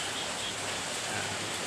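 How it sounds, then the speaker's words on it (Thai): Steady, dense hiss of heavy rain in Thailand, broadband and unbroken throughout, with no voices or distinct events standing out. "วันนี้ฝนตกหนักมาก"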